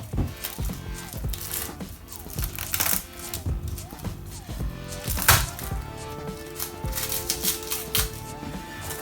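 Garlic cloves are chopped on a board with a rapid, uneven run of crisp knife taps, close and moderately loud, pausing briefly between bursts.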